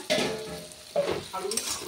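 Onions frying in a pan for a loach fish curry, a soft sizzle broken by several stirring scrapes over a short stretch, close and moderately quiet.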